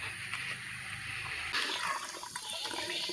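Water pours and trickles into a container as it is collected during a household water shortage, a steady close splashing flow that grows brighter and fuller halfway through.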